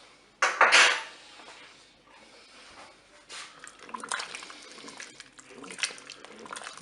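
Utensil clinking and scraping in a Cookeo pot as a cornflour-thickened sauce for blanquette is stirred gently, with a sharp clatter near the start followed by softer intermittent stirring scrapes.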